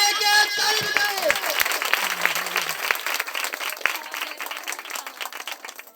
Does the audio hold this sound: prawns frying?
no